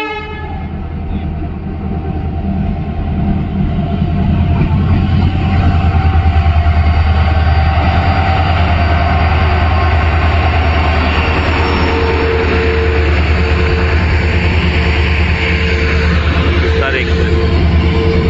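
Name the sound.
Rajya Rani Express train arriving at Arvi railway station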